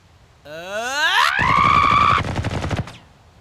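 Cartoon gunfire in an animated scene, a rapid burst of crackling shots following a rising synthetic whine, close and loud, then cutting off abruptly.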